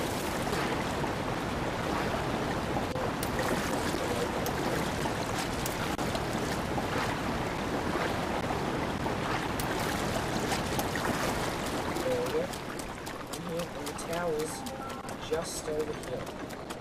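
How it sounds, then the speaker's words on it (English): Water splashes and washes as a character swims across a river in the video game Breath of the Wild, a continuous watery rush under game sounds with someone talking over it. "now I'm going to swim across this river"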